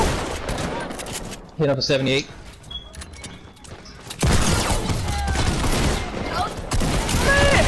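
Rapid bursts of gunfire in Fortnite, dense crackling volleys that come and go over several seconds, with a player speaking briefly over the shooting.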